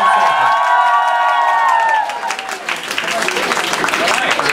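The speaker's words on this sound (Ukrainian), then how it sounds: "Давайте ще більше оплесків" Crowd applause and cheering at an acoustic rock show in a rock pub in Lutsk, Ukraine, a dense, steady wash of clapping and shouts that follows a fading sustained sung or played note, loud and close.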